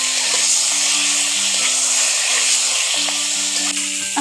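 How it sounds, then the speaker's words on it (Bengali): Pieces of pointed gourd sizzle loudly in hot oil, with repeated scraping strokes of a spatula stirring them in a steady rhythm. "পটলগুলো নাড়াচড়া করে ভালো করে একটু ভেজে নেওয়া"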